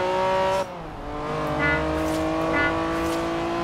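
A car engine in Forza Horizon 3 runs at full throttle, a loud, sustained high-pitched roar that dips briefly as the gear shifts and then climbs again, with faint tire noise and no talking.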